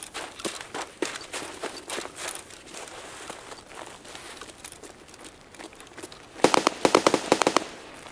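Gunfire in Escape from Tarkov, scattered sharp cracks through the first seconds, then a loud rapid burst of shots near the end, with faint rustling movement in between.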